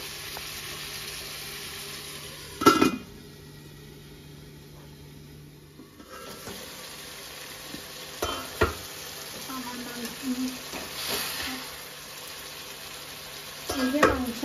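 Chicken pieces frying in a pan for a chicken and bamboo shoot dish, with a soft steady sizzle under occasional clanks and scrapes of a spoon against the pot and a lid being handled.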